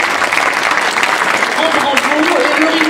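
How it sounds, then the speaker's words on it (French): Audience applause at the end of a talk: dense, continuous clapping from a sizeable crowd, loud and steady throughout, with faint voices mixed in underneath. "Ben, un grand merci et je vous propose de les applaudir."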